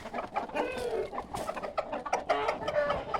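Jersey Giant chickens cluck and murmur close by, several soft overlapping calls with a few sharper squawks.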